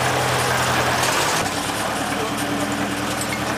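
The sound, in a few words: tractor-powered sugarcane crushing machine running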